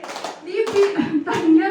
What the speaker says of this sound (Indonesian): Tepuk tangan semua tepuk tangan.